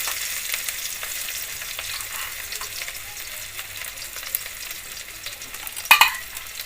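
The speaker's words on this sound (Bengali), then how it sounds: "তেলের মধ্যে আমি পেঁয়াজ কুচি দিয়ে দিলাম" Chopped onion frying in mustard oil in a pan, a steady close crackling sizzle with light stirring and a brief sharp clink near the end, no talking.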